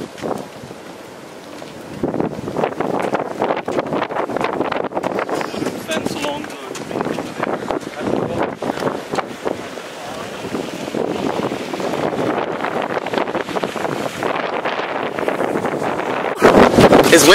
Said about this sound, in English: It's windy out here today, guys.